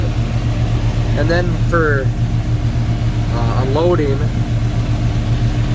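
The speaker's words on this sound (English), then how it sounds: "Not my favorite tractor to unload with because it's quad range." Quad-range tractor engine running steadily during corn chopping, a loud continuous low drone throughout with someone talking over it.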